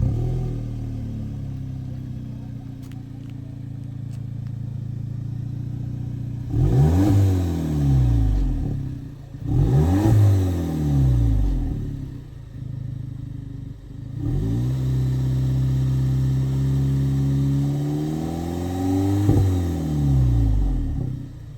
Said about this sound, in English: here's how the stock Polo GTI sounds like from factory